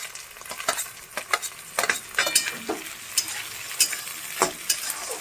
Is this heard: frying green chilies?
yes